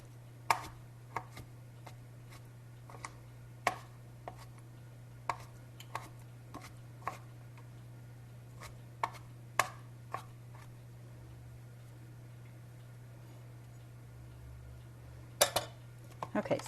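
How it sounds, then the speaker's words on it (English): A knife rough-chops olives on a cutting board, giving sharp, irregular knocks that come steadily and then a quick burst near the end, close and fairly quiet over a steady background hum. "what our olives look like now that they're chopped up. Just rough chop, not teeny tiny"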